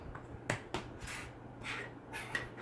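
Sharp mechanical clicks of a Canon Rebel X S film camera shutter, a couple of quick snaps, close and quiet, with faint rustling between them.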